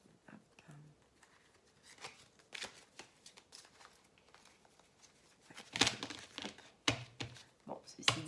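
Oracle cards shuffled and handled close by, with soft papery slides, flicks and taps building to sharper snaps as a card is set back down, and brief quiet talk in between.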